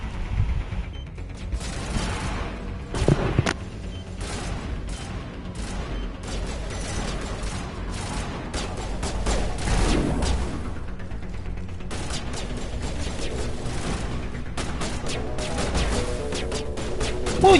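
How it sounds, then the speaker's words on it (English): Gunfire in the video game Mass Effect crackles in repeated bursts and single shots over a busy background of game noise, fairly quiet overall and without speech. "Will y'all stop shooting at me?"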